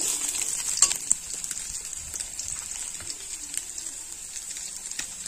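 Chopped onion and lentil dumplings frying in oil, with a steady bright hiss of sizzling and faint clicks of stirring, fairly even and close.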